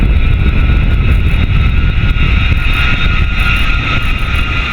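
B-52 jet bomber engines in flight, a loud, constant close-up roar with a whining tone on top, steady throughout and without any voices.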